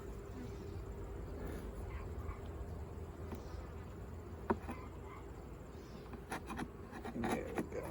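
Honey bees in an open single brood chamber hive during late-summer inspection give a steady low buzz throughout, with a few sharp knocks and clicks of frames being handled near the end.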